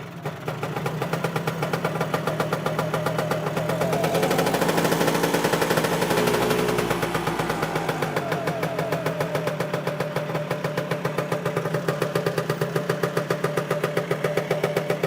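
A Lambretta TV175 scooter engine fires up on the first kick and settles into a rapid, steady putter, briefly revving higher before returning to an even idle, loud and close.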